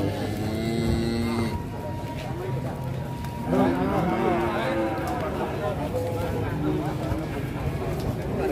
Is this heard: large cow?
yes